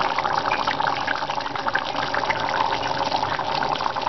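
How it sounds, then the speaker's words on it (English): Chorba hamra soup boils in a pot, giving a dense, steady bubbling and gurgling that stays close and fairly loud throughout, with no talking. "It's the boiling noise, and you can see loads of bubbles."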